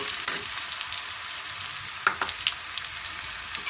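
Onions fry in hot oil for a Bangladeshi green tomato bhaji, a close, steady sizzling hiss broken by a few sharp pops and scraping stirs, with no talking.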